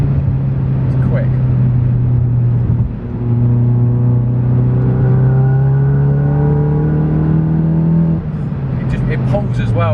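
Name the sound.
500bhp VW Golf GTI accelerating up the rev range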